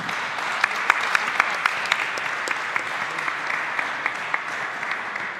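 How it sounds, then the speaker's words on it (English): Audience applause at a startup pitch competition finale, a dense, even wash of many hands clapping that carries steadily at moderate volume for about five seconds, with a few sharper claps standing out. "Big applause."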